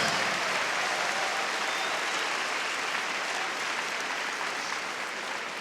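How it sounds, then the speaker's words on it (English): Loud, sustained applause from a large arena crowd at the Crufts dog show as the finalists line up, a thick unbroken roar of clapping lasting several seconds with no speech on top. "I think you should give yourselves a round of applause."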